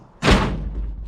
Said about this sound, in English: Oh, door shut's good though.